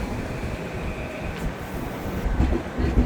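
A commuter train from Stamford, Connecticut to Grand Central in New York rumbles steadily from inside a car, with a low, rolling roar that swells slightly toward the end.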